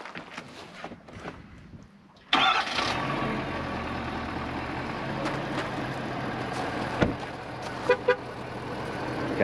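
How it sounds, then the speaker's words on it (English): A car engine cranks and catches, then settles into a steady idle that runs on, with a couple of brief louder bumps near the end. "I'm going to turn the engine on"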